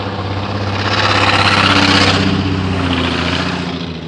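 A newer van's loud engine drones with a rough exhaust note, swelling slightly then holding steady up close, with no talking.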